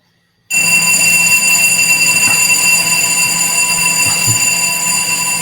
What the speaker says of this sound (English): I'm guessing that's the fire alarm